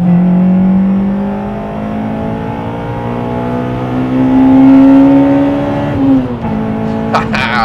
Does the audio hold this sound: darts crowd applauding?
no